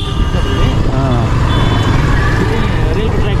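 Indian road traffic on a motorbike ride from Nepal, with vehicle horns and a repeating reversing-type beep over a constant loud engine drone from trucks and cars; a person talks over the din.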